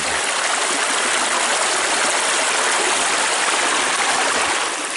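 Water rushes steadily and loudly through a portable gold sluice fed with gravel and sand at a creek, a constant broadband wash with no voices.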